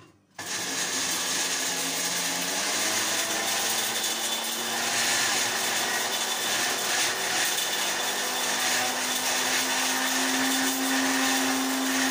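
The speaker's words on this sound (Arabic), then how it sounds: "احطه هنا وافرمه في الخلاط" A blender starts abruptly and grinds onion peels continuously at a loud, steady roar for several seconds, with its motor pitch shifting slightly as the contents break down.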